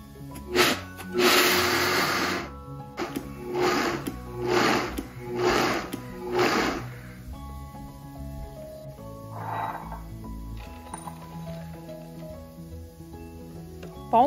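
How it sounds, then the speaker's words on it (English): A spice grinder pulverizing dry roasted peanuts and dry red chili peppers into coarse powder, running in about six short loud bursts with brief pauses between them, then falling quiet with a faint later whir. "Grind the dry roasted peanuts and dry red chili peppers together into a coarse powder."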